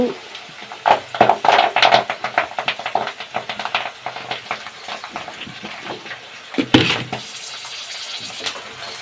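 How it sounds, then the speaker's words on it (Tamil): Hot homemade hair oil crackles and spits in a pot as flowers are added, with irregular pops and scraping stirring sounds over a few seconds. "நல்லா அது மாதிரி கிண்டி விட்டுருவோம் வெடிக்குது பக்கத்துலேயே நிற்காதீங்க"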